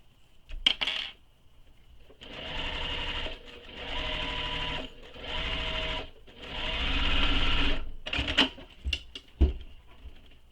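A sewing machine stitches a circular seam on a tote bag in several short runs with pauses between, followed by a few sharp clicks and taps as the fabric is handled nearby.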